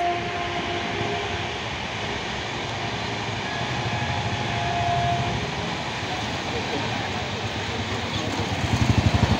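The Agnibina Express rushing through a station without stopping: a loud, steady rumbling roar of rolling wagons that holds throughout and swells into heavier rhythmic clatter near the end.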